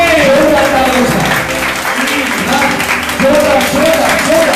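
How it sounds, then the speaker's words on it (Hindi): A church congregation applauds loudly during a Sunday service, a dense sustained wash of clapping mixed with voices and music-like tones throughout. "जोरदार ताली हो जाए"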